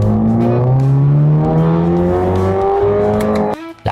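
Chevrolet Camaro ZL1 engine revving hard from inside during a test drive, a loud rising drone climbing steadily through the gear before a sudden drop at the shift.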